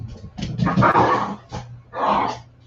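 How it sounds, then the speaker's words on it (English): A ferocious little dog barks in a few short, sharp bursts, near and moderately loud, with no voices over it. "Y'all hear that ferocious little dog?"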